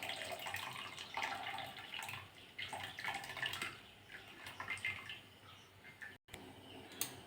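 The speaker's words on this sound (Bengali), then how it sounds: "একটা ছেঁকনি নিয়েছি, ওর মধ্যে নিয়ে ছেঁকে নেব, জলটা ঝেড়ে নেব।" Cooked taro leaves drain in a strainer, water pattering and trickling steadily at close range with small splashes and clinks, fairly quiet, with no talking.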